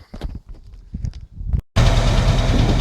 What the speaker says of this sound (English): don't know if you can still hear me now with the tractor chugging away